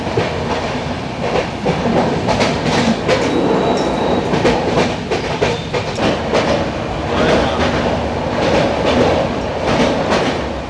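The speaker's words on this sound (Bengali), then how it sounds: "দেখো ট্রেন তো ছেড়ে দিল শিয়ালদা স্টেশন থেকে।" The Sealdah Ajmer Superfast Express running after leaving Sealdah station, heard from on board as a loud continuous rumble with rhythmic clickety-clack of wheels over rail joints.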